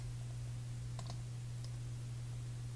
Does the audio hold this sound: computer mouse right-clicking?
yes